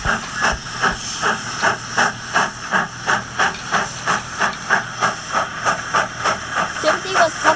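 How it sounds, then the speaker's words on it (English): A steam locomotive chuffs in a steady, even rhythm of hissing puffs, loud and close, continuing without a break for several seconds with no speech over it. "The only thing you could hear was the clickety-clack of Timothy's wheels and his steam"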